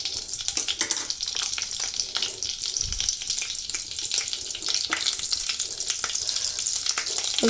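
Butter and oil heat in a pan for paneer, crackling and sizzling steadily up close with scattered sharper pops and a brief stirring scrape, and no talk.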